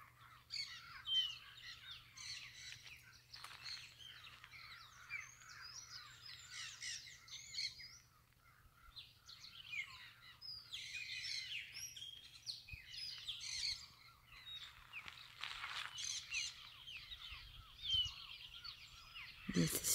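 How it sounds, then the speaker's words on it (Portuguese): Birds singing at a farm in the Pantanal of Mato Grosso do Sul, Brazil: a dense, continuous chorus of chirps, trills and occasional squawks at moderate distance over a low steady hum. "Canto dos pássaros."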